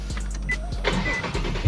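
A Nissan Z engine cranks and fires up loudly, then settles into a deep, rumbling idle that sounds close and fills the space.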